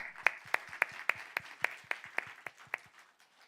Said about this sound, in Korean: 우리 교사들을 위한 박수해 주십시오